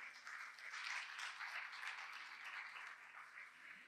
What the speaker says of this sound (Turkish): Girişte o duydum güzel alkışı şu mükemmellik derecesi için alabilir miyiz bu sete?